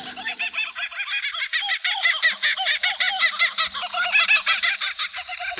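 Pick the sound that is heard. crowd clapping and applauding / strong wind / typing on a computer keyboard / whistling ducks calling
whistling ducks calling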